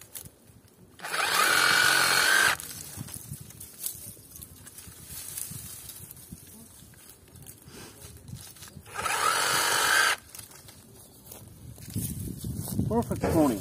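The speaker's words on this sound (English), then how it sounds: "Perfect pruning saw." A Parkside Performance PSSAP D5 sabre saw cuts small tree branches outdoors in two loud buzzing bursts of about a second and a half each, with a person talking in between.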